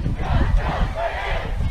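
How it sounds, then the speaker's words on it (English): A crowd at a high school football game, Fort Morgan at Holy Family, makes a steady, broad murmur with shouts and cheers rising from the stands, heard from a distance and sustained throughout. "Light crowd so far on the Holy Family side, but the student section starting to fill in."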